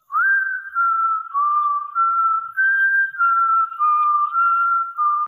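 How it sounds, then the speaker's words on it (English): Melodic whistling from a song, isolated from the rest of the mix as a separated vocal track, a clear solo tune of sustained phrases with short breaths between, alone and close. "it knew that the whistles was vocals"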